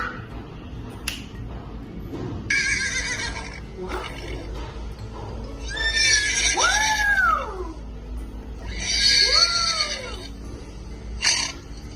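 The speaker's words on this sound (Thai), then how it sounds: "ม้านั่นเองค่ะ" A horse neighs in high, whinnying calls that rise and fall, heard twice with a few sharp clicks and short noises in between.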